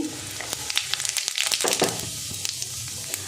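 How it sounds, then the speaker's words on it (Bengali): A dried red chilli and whole cumin seeds crackle in hot oil as a tempering, with a steady close sizzle broken by sharp pops and a few stirring scrapes. "তেল গরম হয়ে গেছে, আমি একটা শুকনো লঙ্কা ফোড়নে দিলাম, দিয়ে দেব গোটা জিরে"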